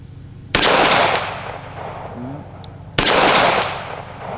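Two loud, close gunshots from a Smith and Wesson 642 revolver fired at a steel plate, spaced about two and a half seconds apart, each with a sharp crack and lingering echo.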